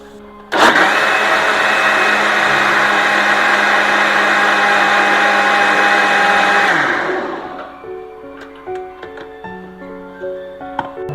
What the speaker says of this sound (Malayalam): മിക്സിയിലിട്ട് ഒരു കറക്കം.